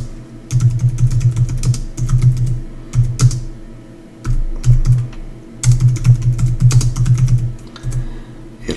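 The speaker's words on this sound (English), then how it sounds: "So if you go in here and you type a bunch of stuff," Typing on a computer keyboard at a desk, bursts of quick key clicks in several runs with short pauses, fairly close and clear, no talking.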